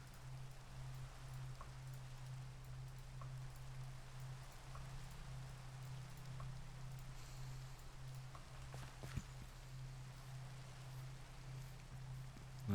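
Minecraft rain, a quiet, continuous soft patter over a low steady hum, with occasional faint drips and one brief sharper tap.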